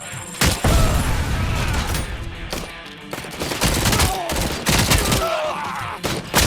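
Video-game gunfire erupts in dense, loud volleys of overlapping shots and bursts, sharp cracks repeating rapidly throughout with brief gaps between flurries.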